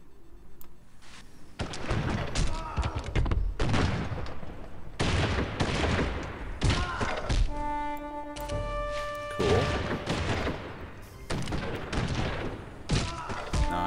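A Civilization 4 tank attack sounds like a battle: rapid volleys of gunfire mix with heavy thumps and crashes in dense, loud bursts that keep coming. A brief tonal chime rings out midway, and no one speaks.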